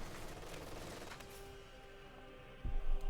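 Rapid machine-gun bursts from an MG42 in the WWII strategy game Company of Heroes 2, a dense crackle of battle fire that thins midway before a heavier low thump near the end.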